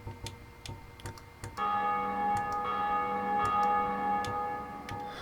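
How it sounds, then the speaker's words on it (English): A bell rings steadily in the video game Dark Souls, the Bell of Awakening sounding as a sustained tolling tone that swells in and holds over low ambient rumble, with a few sharp ticking knocks early on. "you've probably been hearing that bell ring throughout the whole video. That is the Bell of Awakening"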